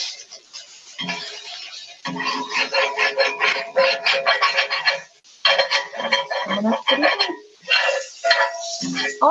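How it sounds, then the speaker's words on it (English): A utensil scrapes the bottom of a pan of cooking mushrooms, with loud, close, rapid rasping strokes in repeated bursts separated by brief pauses. "to scrape up all the flavor in the bottom of my pan"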